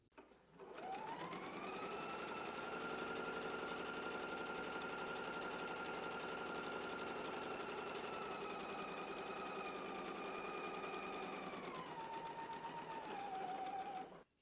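A sewing machine stitching a skirt's center back seam hums in one steady, uninterrupted run for over ten seconds, its motor tone holding even and then dropping slightly as it slows to a stop.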